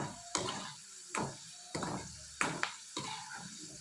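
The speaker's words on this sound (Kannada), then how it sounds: "ಈ ರೀತಿ ಫ್ರೈ ಮಾಡ್ಕೊಳ್ಳೋಣ" Sliced okra frying in a pan for a crisp tea-time mixture snack, with six or so quiet, evenly spaced scraping stir strokes over a faint, steady sizzle.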